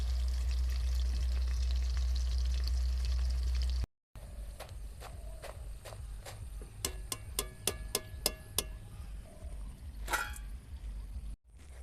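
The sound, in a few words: chicken pakoras frying in oil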